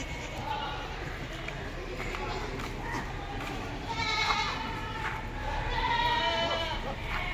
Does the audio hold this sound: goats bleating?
yes